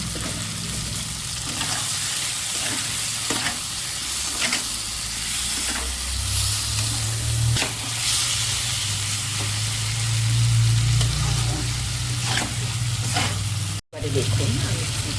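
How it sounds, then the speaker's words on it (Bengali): Ginger-garlic paste with tomato and onion paste fries in a pan, giving a loud, steady sizzle throughout, broken by repeated scraping stirs and a brief dip near the end. "এবারে আমি আদা রসুন পেস্ট দিলাম, একটু ভাজা ভাজা করব।"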